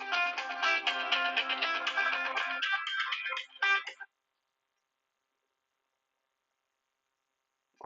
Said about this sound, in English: take that phone call at this juncture.